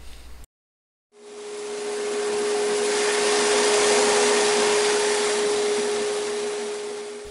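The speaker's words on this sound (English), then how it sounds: "This is a hollow chisel mortiser. It does a great job on making square holes" Hollow chisel mortiser cutting square holes in wood, a steady loud motor whine with a constant tone that rises in after a brief pause and holds throughout, alone with no talk.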